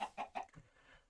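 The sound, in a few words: chicken clucking in Minecraft video game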